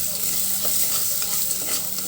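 Browned onions with salt frying with turmeric powder in a pan, a continuous close sizzle broken by soft stirring scrapes, with no voices.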